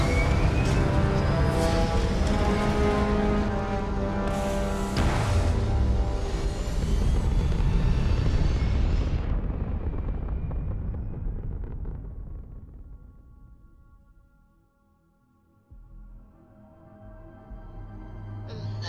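A spaceship lifting off in Starfield, a loud sustained roaring rumble with rising thruster whine that swells, then slowly fades away to near quiet before a soft ambient hum returns.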